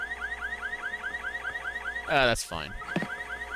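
A car alarm in the video game The VHS Paradise sweeps in steady repeating electronic whoops, looping continuously, while a voice briefly speaks over it near the end.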